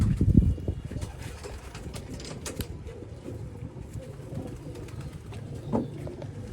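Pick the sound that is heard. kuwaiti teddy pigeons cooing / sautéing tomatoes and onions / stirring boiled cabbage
kuwaiti teddy pigeons cooing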